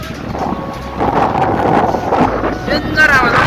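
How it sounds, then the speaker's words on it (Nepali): Strong gusts of wind at Jomsom bazaar in Mustang buffet the microphone with a loud, rumbling roar, and voices are heard beneath the blustery noise. "डेन्जर हावा सरेको छ यहाँ चाहिँ"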